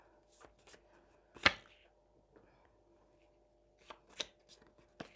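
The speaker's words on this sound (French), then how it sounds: "Et tirage conseil" Tarot cards handled and shuffled during a reading, a few quiet papery riffles and taps spread across the stretch with soft gaps between them.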